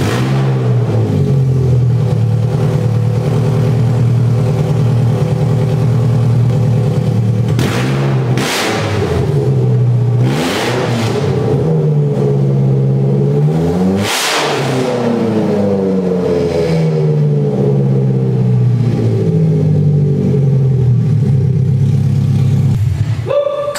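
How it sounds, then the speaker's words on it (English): A Chevrolet Cobalt SS engine runs loud with an open header, its exhaust rasp rising and falling through several sharp revs and then settling back to a steady idle. "it's time for a little open header startup and get the juices flowing"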